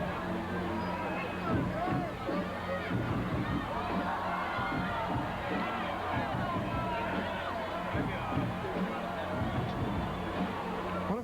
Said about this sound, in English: the crowd is loving these guys